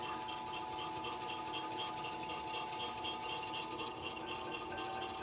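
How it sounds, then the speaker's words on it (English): A knife slices raw beef with the grain into strips about a quarter inch thick for Korean BBQ jerky, producing a continuous close, rasping rub of blade through meat with no talking. "We're going to cut this meat with the grain"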